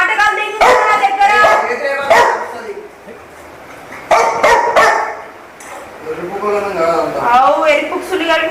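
A dog barks and whimpers in short bursts while a person talks loudly close by, with the voice running over and between the calls.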